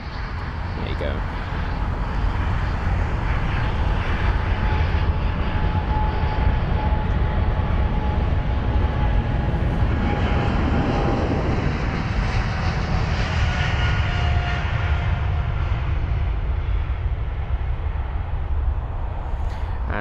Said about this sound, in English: Now our Cathay Pacific aircraft is finally on the move.